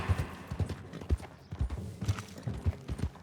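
Steady clip-clop of horse hooves at a walking pace in the video game Red Dead Redemption 2, fairly close, with a faint murmur of ambient noise in the background.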